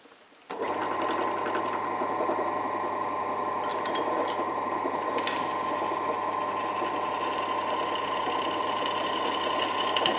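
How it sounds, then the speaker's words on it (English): A small drill bores a hole through metal that was annealed red hot and left to cool, a steady continuous whine and grinding that runs close and loud without pause, with light scraping and clicking on top. "So I'll see if the drill will stand another one."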